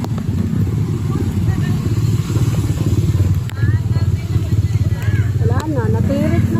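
A tall motorcycle rumbles through floodwater on a street in Hagonoy, Taguig, its engine droning steadily under close, continuous talk, with a few horn-like tones and splashing clatter near the end.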